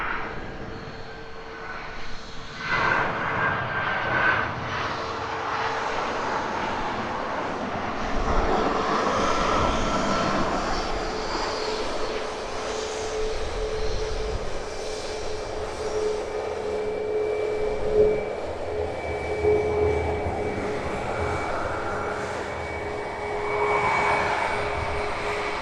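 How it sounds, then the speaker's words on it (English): A Ryanair jet airliner in Malta Air livery taxiing at Edinburgh Airport before departing for Dublin, its engines giving a continuous loud whining roar with a steady tonal hum that swells slightly as it passes, heard from outdoors at moderate distance. "Hot taxi from the Ryanair in the Malta Air livery"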